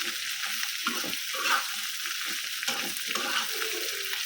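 Onion, garlic and dried fish frying in a hot pan, a dense continuous hissing sizzle with faint stirring, close and steady with no speech.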